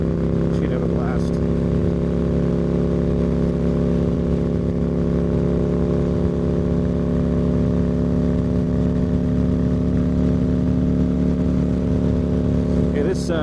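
A motorcycle's exhaust drones steadily from inside a rider's helmet during a ride, a muffled low engine hum with stacked tones that holds an even pitch throughout, wind noise faint behind it.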